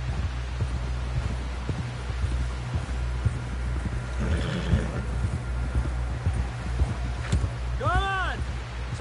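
In Red Dead Redemption 2, horse hooves clop steadily in a rough rhythm over a low rumbling ambience, with a brief tonal call near the end and voices talking over the scene.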